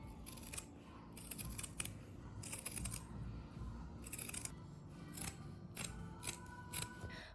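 Scissors snip through fabric and fusible interfacing in quick bursts of crisp cuts separated by short pauses, close and quiet, with no talking.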